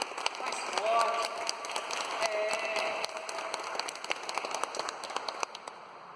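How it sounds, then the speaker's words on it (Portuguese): Church congregation applauding, scattered sharp claps over a busy background with tonal music and voices mixed in, fading toward the end. "Uma salva de palmas à palavra de Deus."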